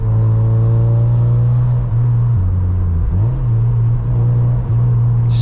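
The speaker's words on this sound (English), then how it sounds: "Listen to the punch, 6k RPM screaming." Mazda MX5 2.0L engine held at high revs around 6,000 RPM, a loud, steady droning roar with strong harmonics, dipping briefly near the middle and at gear changes, heard from inside the car with no talk.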